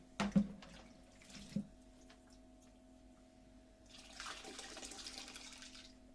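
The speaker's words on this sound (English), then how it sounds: "the red currants and brandy mixture into that. Let the liquid filter through." Red currant and brandy liquid trickles and drips through muslin in a colander, a faint watery patter after a couple of soft knocks, swelling slightly toward the end.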